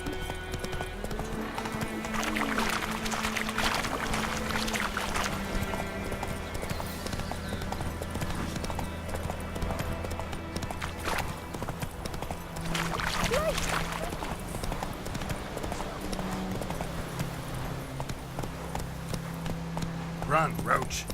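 Roach, Geralt's horse in The Witcher 3, clip-clops along in steady hoofbeats over a continuous game soundscape with a musical drone, and voices speak intermittently over the trotting.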